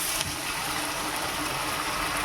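Water poured into a pan of prawn curry, a steady close gushing pour lasting a couple of seconds with no break and no talking.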